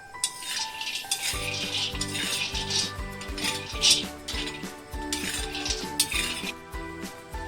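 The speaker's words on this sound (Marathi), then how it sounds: "हे आपले बदाम हे भाजून झालेले आहेत" Almonds dry-roasting in a pan for fenugreek laddus, a utensil clinking and scraping against the metal in a steady, repeated stirring rhythm, close and moderately loud, with a soft tonal hum underneath.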